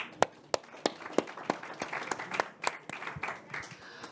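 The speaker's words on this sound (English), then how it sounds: "let us give them another round of applause" Sparse applause at an online announcement event for climate adaptation program winners, a few distinct hand claps ringing out over a thinner patter of clapping, fairly close and moderate in level.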